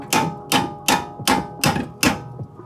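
A sledgehammer strikes the sway bar end link on a BMW E46 M3 six times in an even rhythm, each hit a loud, sharp metallic clang with a ringing tail, close up and with no talk.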